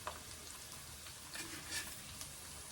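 Onions frying with rock salt in a pan for a chicken gravy, giving a soft, steady crackling sizzle with a few brighter pops, fairly quiet and with no voices.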